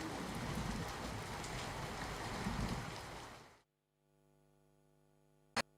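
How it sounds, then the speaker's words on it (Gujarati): Heavy rain pours steadily in Surat as a dense, close roar that stops abruptly, leaving a quiet electrical hum and one sharp click. "સુરત શહેરમાં મોડી રાતથી જ વરસાદ જે છે તે મન મૂકીને વરસી રહ્યો છે।"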